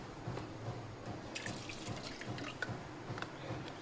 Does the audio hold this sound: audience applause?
no